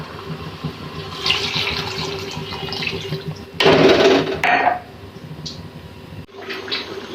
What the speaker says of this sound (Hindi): अब 1 गिलास पानी का डालेंगे।